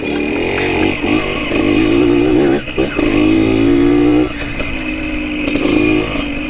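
A dirt bike engine rumbling and revving over a rocky, bumpy trail, loud and close, with rattling clatter as it climbs over stones and brief drops in throttle.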